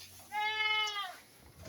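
A goat on a farm where about a hundred goats are being readied for fodder and water lets out one clear, wavering bleat, fairly close and loud against a quiet background.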